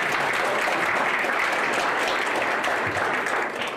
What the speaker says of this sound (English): How about another round of applause for Judge Warren?